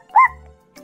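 A single short, close, loud bark from a small dog, a quick yip that dies into a brief low tail, with a faint noise just after.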